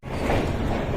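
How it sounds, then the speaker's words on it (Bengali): An express train pulls out of Howrah station, a steady broad rumble of wheels and carriages rolling close by for a brief moment with no talk. "এই যে ট্রেন জাস্ট এই মাত্র ছাড়লো।"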